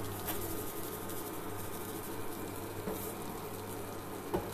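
White asparagus frying in a pan with oil and butter, a steady close sizzle and crackle with a faint stir near the end, no talk.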